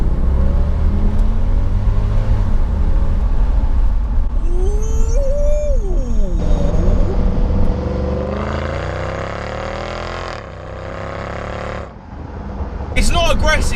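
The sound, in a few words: Mercedes CL63 6.2 litre V8 engine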